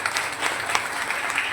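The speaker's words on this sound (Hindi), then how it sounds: "जोरदार तालियां आवाज के साथ" Loud, sustained audience applause from a crowd at an event, a dense even clatter of many hands with no pauses and no voices over it.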